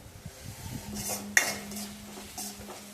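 Peas being stirred in a cooking pan with a metal utensil: scraping and clinking strokes, one sharp clank midway, over a faint steady hum, close by with no speech.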